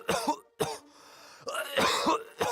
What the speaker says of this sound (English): There's coughing.